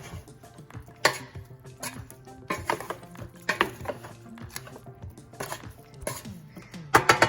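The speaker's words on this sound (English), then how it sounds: "Now I'm going to give it a toss." Seasoned chicken wings tossed with salt and pepper in a bowl or pan, giving a run of clattering knocks and clinks of metal and crockery in irregular bursts, close by and moderately loud, with a sharper cluster of hits at the end.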